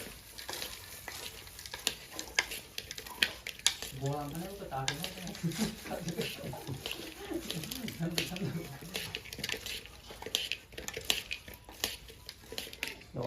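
Spoon stirring a sizzling masala mixture in a pan while cooking, with steady scraping and frying crackle throughout and a person talking over it in the middle.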